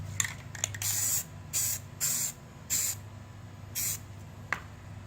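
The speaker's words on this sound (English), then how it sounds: "We can do the underside and inside of the trigger guard." An aerosol paint can sprays the trigger guard of a Savage Axis rifle in six short hissing bursts, close and fairly loud, separated by quiet gaps and a few faint clicks.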